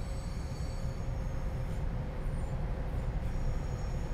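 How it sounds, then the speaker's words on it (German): A train rolls past in the Transport Fever 2 railway game, a steady loud rumble of wheels on track with faint high squealing tones above it, no talk. "Wir bleiben schnell noch hier und gucken uns den Zug noch an."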